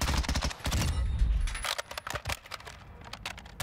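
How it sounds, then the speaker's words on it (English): Lachmann Shroud submachine gun firing in burst mode on a video game firing range, a rapid string of loud close shots in quick bursts that slow to sparser pops toward the end. "One more in burst fire, and then we'll compare it to single shot."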